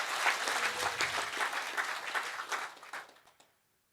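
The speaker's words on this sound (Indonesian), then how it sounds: "Boleh tepuk tangan," An audience at a seminar talk claps warmly. The dense applause holds for about three seconds, then thins into a few scattered claps and stops.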